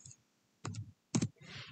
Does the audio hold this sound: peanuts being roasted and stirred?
no